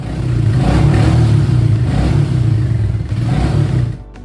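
A Royal Enfield Meteor 350 single-cylinder motorcycle engine runs close by with a raw, clattery exhaust note, revving up and easing off in a couple of steady pulses.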